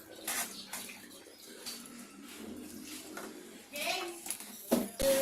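Coolant is poured into distilled water and mixed during a DIY car cooling-system flush; liquid splashes and sloshes in uneven surges, with voices talking intermittently.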